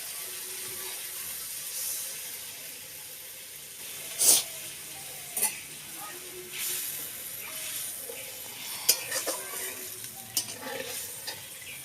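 Water poured into sizzling fried masala in a pan while cooking katla kalia (Bengali rohu fish curry), a soft, continuous frying hiss punctuated by several sharp bursts of spitting and crackling, close and alone.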